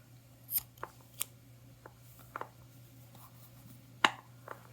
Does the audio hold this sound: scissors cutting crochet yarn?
yes